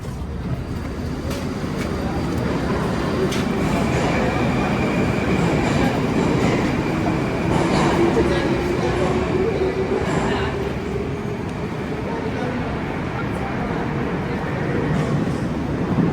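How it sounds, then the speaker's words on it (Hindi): A Moscow metro train rumbles steadily through a station, with a continuous roar of wheels and faint squeals, and indistinct voices mixed into the noise. "स्टेशन आ चुका है जहाँ से मैंने मेट्रो चेंज करनी है"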